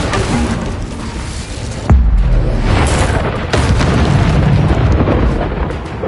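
A fiery Incendio spell going off in Hogwarts Legacy, heard as loud booming bursts that swell and roll continuously, with a heavy impact near the middle and another surge shortly after.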